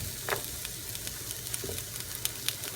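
Vegetables sauté in a pan for Portuguese kale soup, giving a steady close sizzle with a few light utensil taps and stirring clicks scattered through it.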